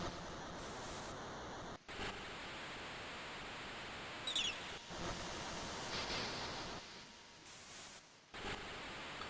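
Beach water from the Final Fantasy VI Advance game is a soft, continuous wash of surf, quiet and noise-like, briefly cut out a few times before resuming.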